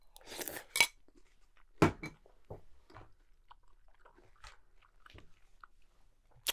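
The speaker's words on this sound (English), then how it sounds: "hearing me munch my food" Someone munches breakfast cereal close to the mic, with crisp crunching bites coming in uneven bursts and a few light clinks of spoon and bowl between them.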